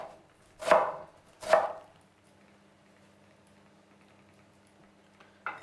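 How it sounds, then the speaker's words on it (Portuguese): Two sharp knife chops on a cutting board as a red onion is cut into small cubes for a black-eyed pea salad, followed by a quiet stretch with a faint hum and a soft final tap. "Meia cebola roxa. A cebola, sim, em cubos pequeninos."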